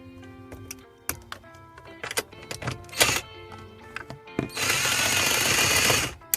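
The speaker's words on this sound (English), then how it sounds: "Use a 10mm deep socket on a 5-inch extension to remove it." Hand tools at work on a 2007-2013 Toyota Tundra, with a 10mm deep socket on a 5-inch extension turning out a bracket bolt: sharp clicks and metallic knocks, then a sustained close rattling whir near the end.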